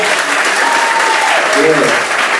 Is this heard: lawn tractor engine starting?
no